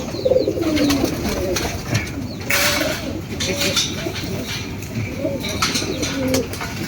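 Pigeons coo softly and repeatedly at close range in a pair being settled together, with low rolling calls over background chatter and rustling.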